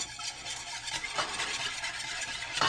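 A whisk stirs a four-chili garlic sauce in a bowl, giving a soft, continuous scraping and swishing, faint and close, with a sharper clink near the end.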